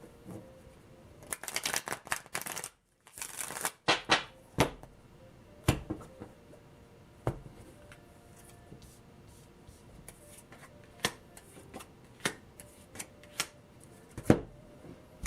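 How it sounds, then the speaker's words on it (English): Tarot cards are shuffled, slapped and shifted about on a table in a run of crisp riffles and sharp taps, busy at first, then settling into scattered single clicks at close range. "Okay, let me move these cards up."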